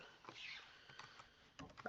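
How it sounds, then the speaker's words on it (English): Typing on a computer keyboard, with a few soft, quiet key clicks in an irregular patter close by that end in a louder burst of taps. "I'm typing in Captain America."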